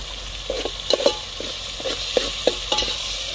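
Spices for a Kolhapuri style goat leg bhaji fry and get stirred in a pan with a splash of soup water, giving a steady low sizzle broken by soft, irregular scraping and clinking strokes at close range.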